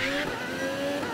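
Race car on the final lap in Gran Turismo Sport, a sustained high engine whine holding a steady pitch with tonal harmonics, close and loud, no voices.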